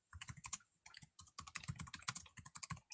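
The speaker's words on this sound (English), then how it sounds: "Sorry if the typing's really loud." Rapid typing on a computer keyboard, close and crisp, with quick bursts of clacking keystrokes separated by brief pauses and no talking.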